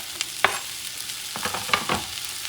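Chicken fried rice stirred in a pan over medium heat, a soft sizzle under scattered scraping and clinking of a utensil against the pan, close and fairly quiet with no talk.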